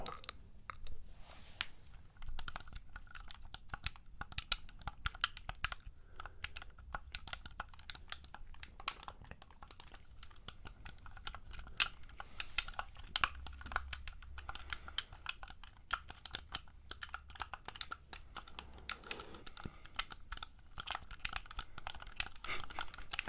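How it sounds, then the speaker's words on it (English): Buttons on an Xbox controller clicked close up in an ASMR setting, a quiet, dense run of rapid plastic clicks and taps continuing steadily with no talk. "Xbox controller. So we're gonna click a few buttons."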